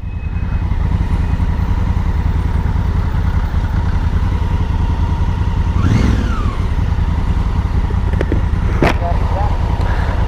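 Motorcycle riding on a Kawasaki Versys 1000 or Honda Africa Twin CRF 1000, a steady loud engine and wind drone throughout with a brief swelling pass around the middle and a short clatter near the end.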